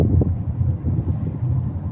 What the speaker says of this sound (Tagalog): mahangin siya, malamig kahit may araw